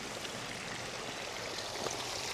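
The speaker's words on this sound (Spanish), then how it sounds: "qué caños de agua más bonito" Water runs steadily from the stone spouts of a public drinking fountain in Alájar, a continuous close splashing stream with no voices.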